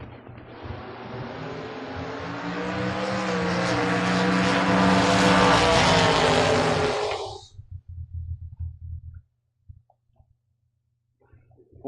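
Drag racing cars launching down the track at the FRBR Independence Showdown, a loud roaring engine that builds for several seconds and then cuts off sharply, followed by brief faint rumbles and near silence.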